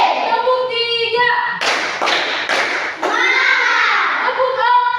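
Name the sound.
class clapping in a counted pattern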